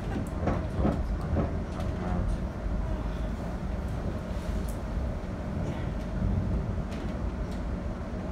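Heard from inside moving passenger train unit 710121, a loud continuous rumble and roar of the carriage on the rails fills the space, with faint rhythmic clicks and a steady low-frequency drone throughout.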